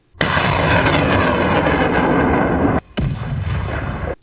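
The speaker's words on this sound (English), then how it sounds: "A precise hit causes ammunition to ignite." Ammunition ignites after a HIMARS missile strike on a Russian system hidden under tree cover, giving a loud, sustained roaring barrage of blasts. It breaks briefly, then resumes with more rumbling detonations.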